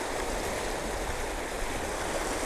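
Fast water of a big creek rushing steadily, loud and close, a dense continuous wash with no pauses and no voices.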